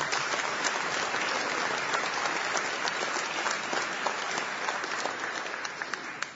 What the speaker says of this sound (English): How about a round of applause for those two guys?